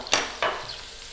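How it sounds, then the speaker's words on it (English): Onion, carrot, garlic, paprika and cumin stirred and frying in a pan for beet soup, two quick soft scrapes over a faint steady sizzle, fairly quiet. "We're going to throw this around for 5 minutes in the pan"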